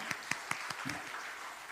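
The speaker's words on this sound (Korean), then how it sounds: "박수 한번 드리십시오" A church congregation at a Sunday service gives a short, quiet round of clapping, a few distinct claps at a regular beat that trail off quickly.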